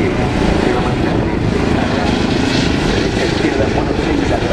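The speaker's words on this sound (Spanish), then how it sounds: "El helicóptero es muy costoso, es una máquina difícil de mantener" A National Police air service helicopter flies at the 2023 Torre del Mar air show, its loud, steady engine and rotor drone filling the whole stretch without a break.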